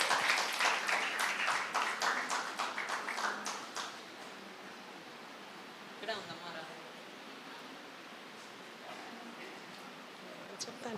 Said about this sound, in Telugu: అందరూ చప్పట్లు కొడుతూ ఆహ్వానిద్దాం